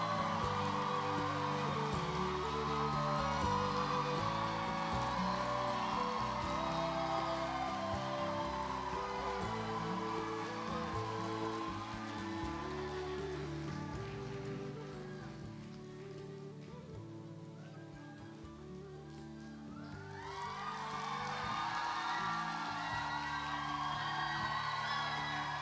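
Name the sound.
audience applause welcoming the speaker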